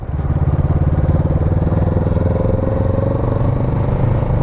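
A Kawasaki Z650RS motorcycle engine pulls hard under acceleration, a loud, close, throbbing exhaust note with a rapid, even pulse that holds steady throughout.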